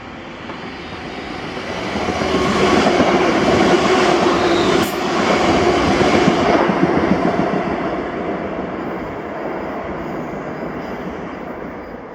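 A ScotRail Class 380 passenger electric train passes through Paisley Gilmour Street station with a swelling rumble of wheels on rails and some flange squeal. The noise rises, stays loud for several seconds, then fades.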